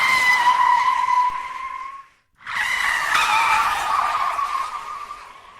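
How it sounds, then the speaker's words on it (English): An SUV's tires skid and squeal loudly in a sustained screech, cut off by a brief silence, then a second long, loud screech with engine roar as the vehicle speeds away in a hit-and-run. "Amaya stood in front of the SUV, and the vehicle accelerated. No attempt to swerve, no brakes,"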